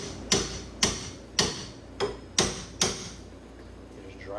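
Six sharp hammer blows, evenly spaced about half a second apart, close and loud, drive a steering knuckle closed while fitting a Scotidi angle kit and Feal coilovers on an S550 Mustang drift car; quiet workshop ambience follows.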